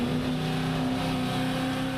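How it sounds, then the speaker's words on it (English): A Holden V8 ute race engine in a 2014 V8 Ute Series race at Barbagallo, a loud, close, sustained engine roar holding a steady high pitch throughout the short burst. "You can hear those engine revs pick up"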